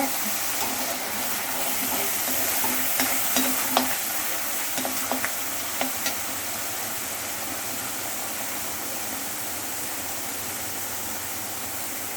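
Ground chilli chicken paste sautés in a hot pan for hotel-style chilli chicken, making a loud, even, close sizzle with a few sharp crackles early on that fade into a steady hiss.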